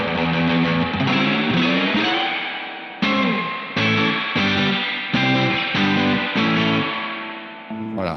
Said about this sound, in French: là on sent bien cet effet et la résonance de la reverb qui donne cet effet mouillé